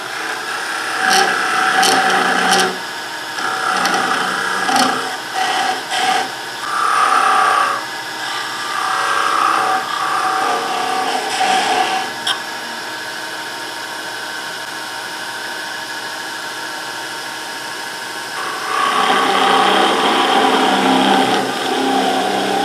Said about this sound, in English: So I'm just going to go ahead and part it off